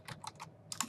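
Quick, light keystrokes clatter on a computer keyboard, about seven soft taps in two short bursts, close and quiet with no talking.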